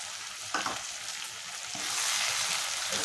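Turmeric and coriander powder are stirred into a frying curry of egg and dry fish, with a steady sizzle and a few scraping strokes of the spoon close up.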